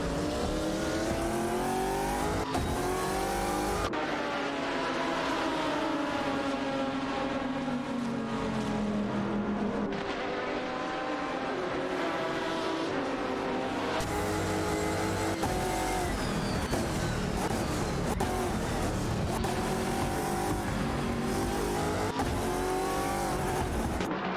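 Race cars including a Chrysler Viper GTSR roar through a video game race, a dense, loud, continuous engine drone that rises and shifts with gear changes, with no talking.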